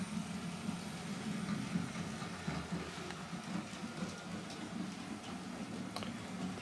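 A Piko BR 132 Ludmilla model diesel locomotive with an ESU Loksound 5 sound decoder, hauling a freight train over a model railway layout, gives a steady low engine drone with faint ticking, continuous and moderately quiet.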